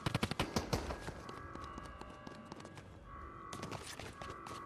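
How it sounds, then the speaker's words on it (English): A submachine gun fires in a video game, rapid bursts of sharp shots up front that thin into scattered cracks over a steady hum of game ambience. "That's an SMG."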